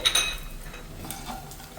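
A spoon clinks and scrapes briefly in a pan where chilli powder and spices fry for a brinjal masala with curd, soft and close with a faint sizzle.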